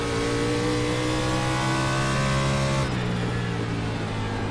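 A simulated NASCAR stock car engine at Nashville Fairgrounds Speedway drones loudly with a steady rising pitch, then abruptly lifts off as the car overshoots a corner, the tone dropping and roughening.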